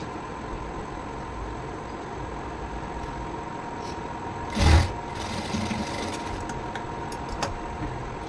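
A sewing machine stitching a 34-inch blouse, a steady close mechanical whir running throughout with a brief louder bump midway.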